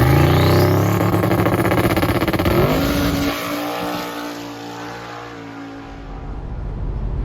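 A Chevrolet Nova drag car with a Gen V LT engine launches at Bradenton Motorsports Park, its loud engine roaring and climbing steadily through the gears on a pass down the strip, then fading into the distance.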